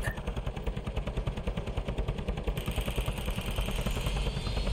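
Rapid machine-gun fire from a helicopter in the video game Squirrel with a Gun, a steady stream of dense, loud rattling shots running the whole length without pause, with no talk over it.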